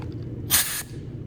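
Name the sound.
air hose nozzle spraying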